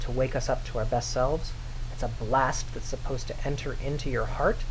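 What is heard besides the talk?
No everyday noises stand out.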